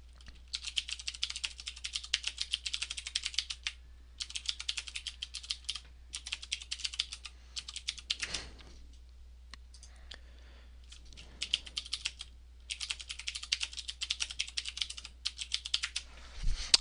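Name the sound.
typing a password on a computer keyboard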